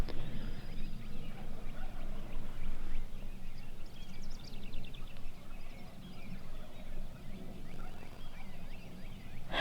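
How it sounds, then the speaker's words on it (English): Wild turkeys gobble in scattered bursts across windy Nebraska cattle country during a hunt. The calls come from a distance, fairly faint beneath constant rumbling wind noise. "There's turkeys gobbling everywhere."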